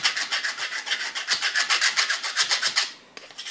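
Secateurs blade being sharpened with a steady run of rhythmic rasping strokes, close and fairly loud, about sixteen even passes before stopping, then a faint click.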